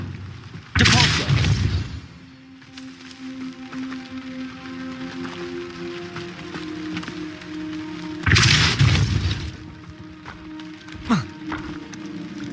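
A Depulso spell cast in the Hogwarts Legacy video game lands as a loud, broad burst, then another about seven seconds later, over a steady game ambience.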